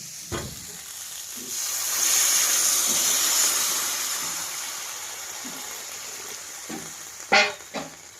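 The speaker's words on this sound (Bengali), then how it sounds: "কষানো হয়ে গেছে এবার জল দিয়ে দেব" Fish curry sizzling and frying in a pan gives a steady hiss that swells when water is poured in, with a few sharp stirring clinks near the start and end.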